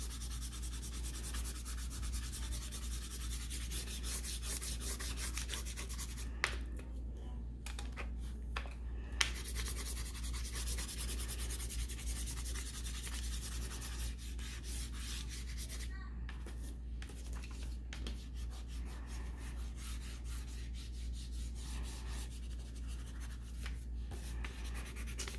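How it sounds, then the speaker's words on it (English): A crayon rubs back and forth across paper while the sky is colored in, a continuous soft scratching with brief pauses, close and quiet. "I'm going to attempt to with the crayon. I'm using the same color right now and just pressing darker for the top half."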